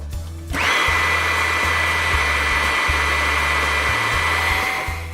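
A Huck Model 940 Powerig portable hydraulic power source starts up with a sudden rise into a loud, steady whine and hum that holds alone at constant pitch, with a low pulsing motor tone underneath.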